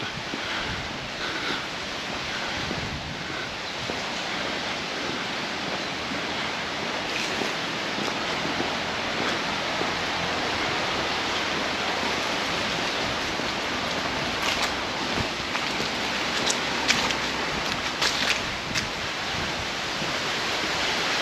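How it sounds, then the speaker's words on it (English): Wind blows steadily at the seaside in Magaluf, Mallorca, a broad continuous rushing roar buffeting close to the microphone with slight gusting surges throughout and no talking. "you can see the wind is picking up again"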